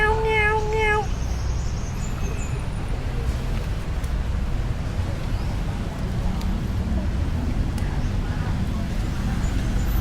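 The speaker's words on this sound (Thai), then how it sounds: "แมวมา โน่นแล้วก็มาแล้วแมวเมียว" A cat meows a few times at the very start, then steady traffic noise and a busy roadside rumble continue with no further calls.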